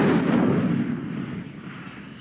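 An Incendio fire spell bursts in the game Hogwarts Legacy, opening with a loud fiery whoosh and blast that fades into a lingering low rumble.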